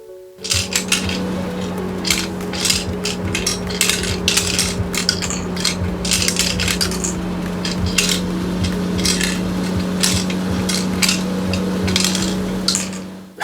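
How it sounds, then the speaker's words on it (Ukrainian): An old LEGO toy concrete mixer runs with a steady motor hum while loose pieces rattle and clink out in a dense, busy stream close by. "хоч цей бетонозмішувач і старенький, але роботу свою буде виконувати гарно"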